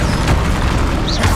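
A Bombarda explosion spell in Hogwarts Legacy gives a loud, deep boom with continuous rumbling throughout and a brief whistling sweep near the end.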